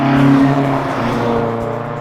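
A 1971 Alfa Romeo Giulia Super's engine runs with a steady, close, tonal hum that eases slightly over a couple of seconds, with no voices.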